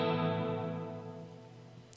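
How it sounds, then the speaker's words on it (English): A sustained tone rings out through an Axe-Fx plate reverb with stack and hold off, its dense, smooth tail slowly decaying over two seconds. "So here's what the reverb sounds like without stack or hold turned on."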